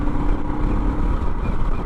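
A Suzuki DR650 dual-sport motorcycle fitted with a 14-tooth sprocket cruises at 100 km/h, its engine a steady, loud droning hum mixed with rushing wind and road noise, without any talking.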